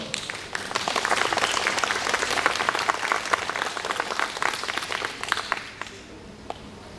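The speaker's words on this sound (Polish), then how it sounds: "Drodzy Państwo, jeszcze raz proszę oczywiście o duże brawa" Sustained audience applause at a graffiti competition award ceremony, dense steady clapping for prize-winning projects, fairly loud and continuous before tapering off near the end.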